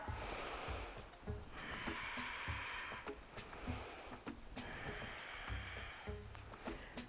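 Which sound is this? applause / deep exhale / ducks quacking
deep exhale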